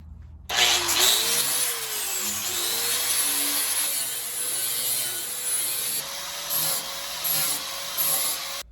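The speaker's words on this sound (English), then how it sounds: "you definitely want to clean up your edge a little bit after that horrific hack job. Flap disc works decent." A flap disc on an angle grinder smooths the freshly cut edge of a Jeep XJ fender, a loud continuous abrasive whine and rasp with pitch dips as pressure changes, then several short grinding passes.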